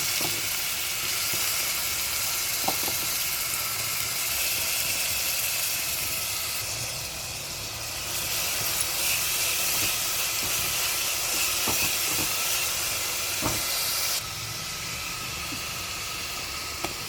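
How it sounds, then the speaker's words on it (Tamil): Onions frying in oil in a pan with cloves and cinnamon, giving a constant steamy hiss at moderate level, with a few faint clicks of utensils and no talking. "இது கூடவே கொஞ்சம் வெங்காயம் போடுறேன்"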